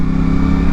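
A CFMOTO 450SRS sports motorcycle engine pulls hard under acceleration, a loud, close, steady growl with a strong rumbling low end and no talking.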